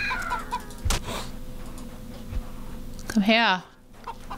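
Chickens in the video game CHKN cluck and squawk in short bursts, with one loud, wavering squawk near the end, over a steady background hum, while someone talks between the calls.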